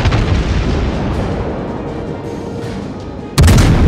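Heavy naval gunfire from a cruiser in the naval battle game World of Warships, a rolling, booming roar of shells that fades into low rumble before a sharp, loud new blast near the end.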